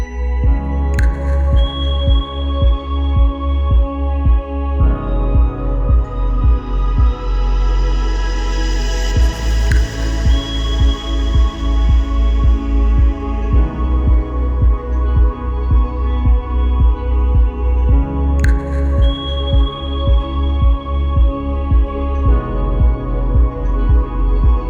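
Homemade welded star picket driving machine hammering a steel fence post into the ground with a fast, even train of heavy thumps over a steady engine drone, close and loud and without speech.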